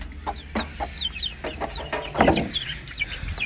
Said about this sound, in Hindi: सही है भाई अनीस, मुर्गा अंडा भी बैठा यार